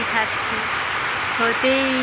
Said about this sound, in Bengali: বর্ষা নেমে গেছে, প্রচণ্ড বৃষ্টি হচ্ছে।